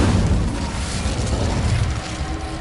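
Fiery Incendio spell blast in Hogwarts Legacy, a sustained loud roaring burst with a deep rumbling low end that holds steady across the clip, no voices.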